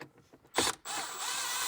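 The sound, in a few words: ratchet loosening a screw in a car dashboard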